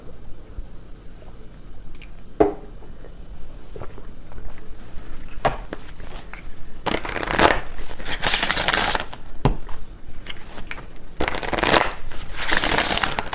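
Tarot cards shuffled by hand in bursts of crisp riffling and flapping, with softer taps and handling between, close and fairly loud, no talking.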